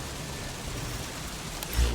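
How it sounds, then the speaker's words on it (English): Steady rain falls in Metal Gear Solid V: The Phantom Pain on PS4, a faint, even hiss with a slight low swell near the end. "It's raining, so I can't really hear much."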